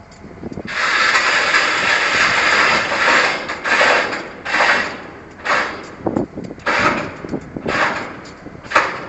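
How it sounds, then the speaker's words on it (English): Railroad car handbrake being applied by a worker during yard switching, a series of loud metallic ratcheting clanks and hissing bursts in an irregular rhythm, close and prominent. "Railroad employee is just going to apply the handbrake."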